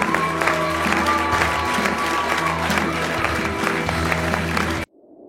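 A studio audience claps loudly and steadily for about five seconds on a television sports show, a dense wash of applause that cuts off abruptly near the end.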